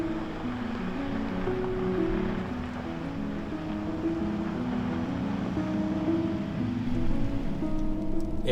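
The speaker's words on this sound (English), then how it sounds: "it's just started to rain as well" Rain falls steadily during a drive on a high country track, a continuous broadband patter mixed with low vehicle rumble, fairly even in loudness and slightly building toward the end.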